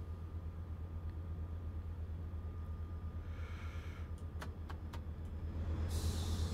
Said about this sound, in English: release the brakes